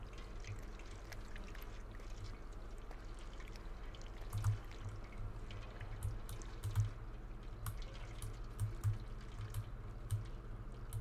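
Water drips and trickles in the video game Stray, a faint continuous flow with scattered soft drip taps recurring irregularly over a low background hum.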